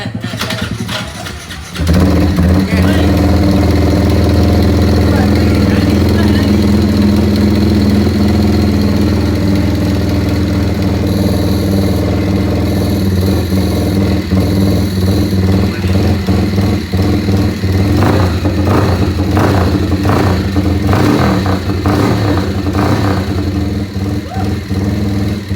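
A motorcycle engine cranks and catches after a couple of seconds, then settles into a steady, loud idle that rumbles on close by.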